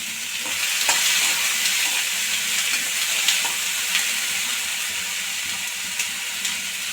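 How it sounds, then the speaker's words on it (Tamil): Ingredients for sundal kuzhambu sizzle and fry in a pan over a low flame, a steady close hiss with occasional soft stirring scrapes and no talking. "லோ ஃப்ளேமில் அடுப்பு வச்சு ஒரு நிமிஷம் மட்டும் வறுத்துருவோம்"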